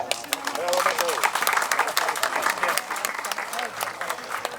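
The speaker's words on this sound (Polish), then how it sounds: "Ogromkie, gromkie brawa prosimy." Steady applause from a crowd at a village harvest festival in Poland, dense clapping lasting throughout with some voices mixed in.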